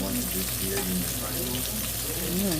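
Squash pieces fry in a pan with a dense, continuous sizzle that stays close and steady throughout, while faint voices murmur underneath.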